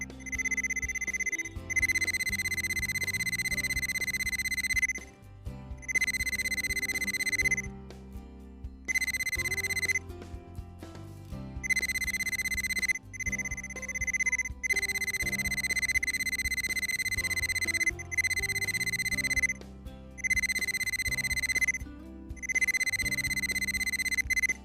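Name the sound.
Armada Pro700 dual tone wire and valve locator signal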